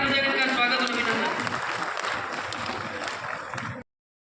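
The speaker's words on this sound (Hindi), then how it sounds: "एक बार जोरदार ताली बजाकर इनका स्वागत और अभिनंदन।" Audience applause welcoming a guest at a community award ceremony in Bikaner, a sustained crowd clapping at moderate level that cuts off abruptly near the end, with talk layered over it.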